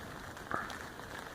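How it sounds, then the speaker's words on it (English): Rain falls outside a tent at a campsite, a steady soft patter on the fabric with a brief louder tap midway, close and even throughout, with no voices. "It sounds like rain."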